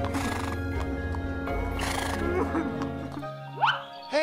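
A toy farm diorama scene with a horse neighing and whinnying amid layered, busy sound, ending with rising squeals; a voice may be present beneath.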